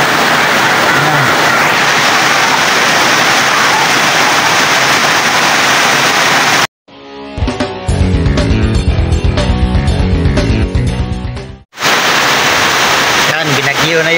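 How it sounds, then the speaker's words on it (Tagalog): Heavy typhoon rain pours down at a fish farm, a loud steady roar of water broken by a few seconds of muffled, thumping sound before the downpour returns. "Lakas ng bagyo, ay lakas ng ulan."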